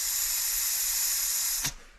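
Air is blown through a passage in a Yamaha AT3 motorcycle carburetor, a steady close hiss that runs for over a second and a half before cutting off abruptly.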